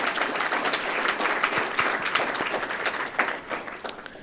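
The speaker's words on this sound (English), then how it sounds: "Let's give them a round of applause for their great feedback today" Sustained applause from a conference audience thanking a panel at a future-of-work event, a dense, even wash of many hands clapping close up that thins slightly near the end.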